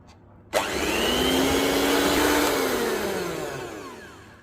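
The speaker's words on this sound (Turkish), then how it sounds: "Artık mikserimizi kekimizin içinden çıkarabiliriz." An electric hand mixer beating apple and raisin cake batter switches on abruptly and runs with a steady motor whine, loud and close, slowly sagging in pitch as it works, with no talk.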